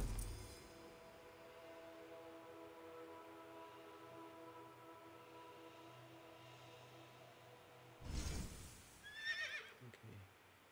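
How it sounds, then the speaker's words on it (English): A Viking horse in Assassin's Creed Valhalla lets out a short whinny near the end, following a long stretch of quiet tonal game ambience, with a faint shuffle of hooves around it. "It's like a Viking horse."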